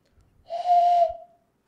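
A person whistles one clear, steady note in imitation of a bird call, close and fairly loud for about a second, alone with no talk.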